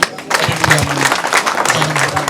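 An audience at a community celebration breaks into loud, sustained clapping that builds quickly and stays dense throughout, with some crowd noise mixed in.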